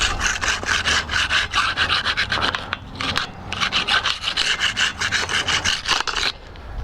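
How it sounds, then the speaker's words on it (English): A ceramic grill grate from a Pit Boss Pro 1100 pellet grill being scraped against a brick, harsh gritty back-and-forth rasping strokes in a steady rhythm with a brief pause midway, close and loud with no speech. "set it on a brick and just scrape the back."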